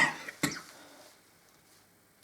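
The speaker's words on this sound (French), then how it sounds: "je vais tousser assez régulièrement dans mes vidéos" A single sharp cough rings out close to the microphone, preceded by a softer throat noise, then quiet room tone with no speech.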